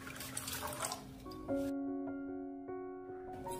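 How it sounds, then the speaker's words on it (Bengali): Water poured into a measuring mug, about 500 ml, in a home kitchen: a brief splashy pour, then a rising ringing tone as the mug fills, close and clear, no voices. "এবার একটা মেজারিং মাগে আমি জল নিয়ে নিচ্ছি।"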